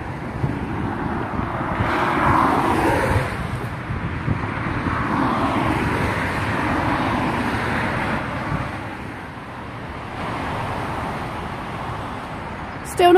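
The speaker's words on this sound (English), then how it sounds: "So we're leaving the noisy motorway." Continuous roar of motorway traffic from a countryside walking path in Oxfordshire, a broad wash of tyre and engine noise with gusts of wind on the microphone, swelling and easing slightly as the walker moves away.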